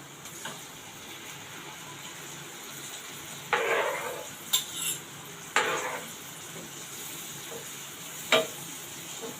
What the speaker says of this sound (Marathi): एक मिनिट हे परतत राहायचं आहे थोडं हलकं थंड होईपर्यंत